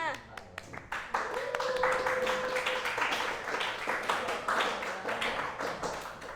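A classroom of students clapping for a classmate at the front, a steady burst of applause with sharp hand taps lasting several seconds, with some talk and chatter underneath.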